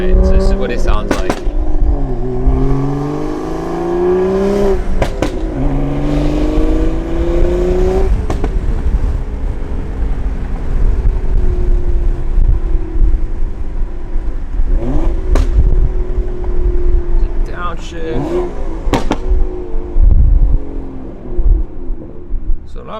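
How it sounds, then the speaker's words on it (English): A car engine drones and rises through the gears while driving, with throaty exhaust rumble, occasional pops and sharp bursts, loud and close throughout. "show you guys what the exhaust sounds like when we're rolling"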